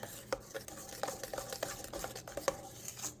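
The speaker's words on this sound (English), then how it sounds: "You want to stir it constantly while it's on the double boiler phase." A spoon stirs thick melted chocolate in a bowl over a double boiler, soft scraping clicks repeating at an uneven, steady pace, quiet and close.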